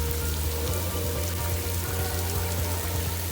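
Artificial rain pours down inside the Sharjah Rain Room, a dense, even patter of drops hitting the floor that carries on without pause and without talk.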